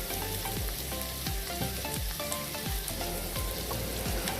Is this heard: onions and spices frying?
yes